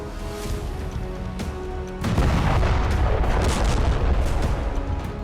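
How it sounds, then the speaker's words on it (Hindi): Explosion from an Israeli airstrike destroying a car: a sharp blast strikes and is followed by a loud, sustained rumbling roar of debris and noise, with a few faint earlier thuds before it. "इसी दौरान इजरायली विमान उसे टारगेट कर लेता है, जिसके बाद एक विस्फोट होता है जिसमें कार तबाह हो जाती है।"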